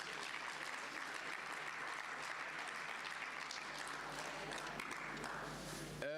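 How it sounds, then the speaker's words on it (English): A large audience at an e-learning summit gives a sustained, dense round of applause for a speaker, even and continuous throughout before cutting off abruptly. "A big round of applause for Mr."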